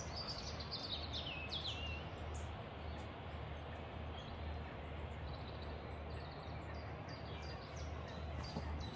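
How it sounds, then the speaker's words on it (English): Birds chirp and trill in the distance over a steady outdoor hush at a hilltop viewpoint at Fountains Abbey, their high calls faint but recurring throughout a calm, open setting. "You can hear the birds singing."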